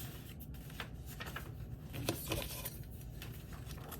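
Scissors cut a paper planner piece by hand, a steady run of soft crisp snips and paper rustles at close range with no voice.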